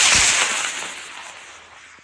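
A high-power model rocket on an H128W motor launches with a loud burst of roaring hiss that fades steadily over about two seconds as it climbs away.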